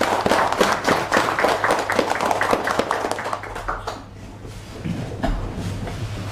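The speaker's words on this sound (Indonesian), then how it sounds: "tepuk tangan buat pengembang yang ada." Applause from a meeting audience for housing developers, a dense burst of many hands clapping that fades after a few seconds into room noise, with a brief murmur of voices at the end.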